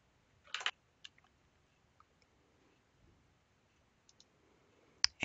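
Computer mouse clicks, a few sparse, quiet, close clicks spread over a few seconds with near silence between them.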